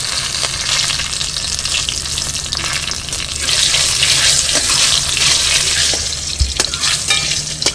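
Curry leaves and a dried red chili sputter and fry in hot oil with steady, loud sizzling and occasional stirring scrapes, no voices.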